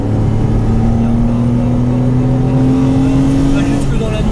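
A Porsche Cayman S accelerates on the Haute Saintonge race circuit, its engine note rising steadily, loud and close from inside the car, with an instructor talking over it.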